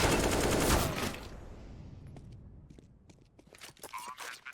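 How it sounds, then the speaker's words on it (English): AWP sniper rifle firing through smoke in a Counter-Strike match on Dust2, a sharp loud shot with a ringing tail, followed by quieter scattered gunfire clicks and game sounds. "Farvan fires through the smoke for a second attempt on the AWP"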